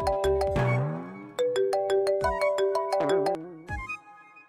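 A bright electronic phone ringtone plays a quick chiming melody of repeated tones, clear and close, with no talking.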